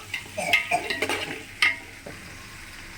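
Sliced onions fry toward brown in a pan for home-style chicken biryani, with a crackling sizzle, several metallic spoon scrapes against the pot early on, then a quieter steady frying hiss and no voices.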